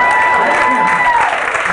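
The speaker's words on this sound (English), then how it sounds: "Damn, that was over, so I give a round of applause." Comedy club crowd at Comic Strip Live in New York City clapping in a dense, continuous burst, with a voice speaking over the applause.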